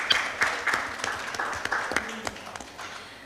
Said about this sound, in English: Please, can we have a round of applause for all of our panelists joining in physically and virtually?